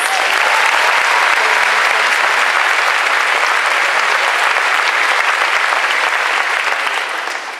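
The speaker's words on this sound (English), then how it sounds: "That deserves a round of applause." A large audience at a high school graduation ceremony for the class of 2018 breaks into loud, sustained applause. Thick, even clapping from many hands fills the hall and holds steady throughout, tapering only slightly at the very end.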